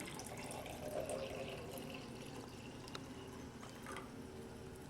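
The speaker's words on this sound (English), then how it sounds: "we're going to fill our glass jar with water." Water running from a tap into a glass jar, a continuous faint splashing and trickling that holds steady for several seconds, with no one talking.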